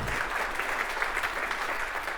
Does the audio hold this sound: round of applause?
yes